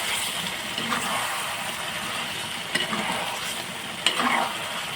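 Mutton curry with whole garlic cloves being stirred in a pan, a steady sizzle with scraping stir strokes at intervals, close and moderately loud, no talking.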